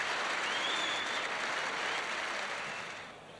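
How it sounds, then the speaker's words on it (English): Warm applause rises from a hot MCG cricket crowd in 1992 after Viv Richards reaches his fifty with a straight drive, a dense, steady wash of clapping that slowly fades toward the end. "Warm applause from this very hot MCG crowd."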